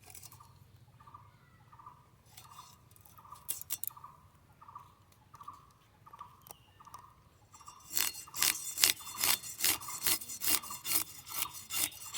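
A knife scrapes and saws at a fresh, live Foli featherback fish, first a regular rasping stroke repeated about a dozen times, then louder, harsher chopping scrapes close up.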